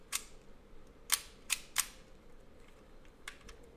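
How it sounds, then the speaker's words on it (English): A film camera with a mechanical crank and mechanical shutter being worked by hand gives a handful of sharp, dry clicks and snaps, irregularly spaced and close, over a quiet background with no talking. "there's just a mechanical crank here, a mechanical shutter"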